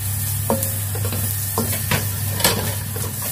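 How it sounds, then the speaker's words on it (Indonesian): Garlic, ginger and black soybeans being sautéed in a little oil in a pan, with a steady close sizzle and several sharp stirring scrapes of a utensil against the pan. "Dan kita tumis bawang putih, jahe dan kedelai hitamnya tadi."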